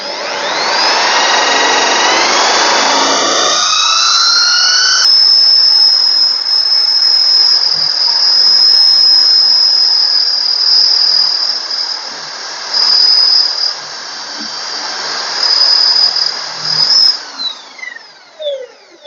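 A machine drills concealed hinge holes in moisture-resistant MDF, a loud, steady high whine holding for about seventeen seconds after a brief rougher start, then sputtering down into a few short bursts as it stops.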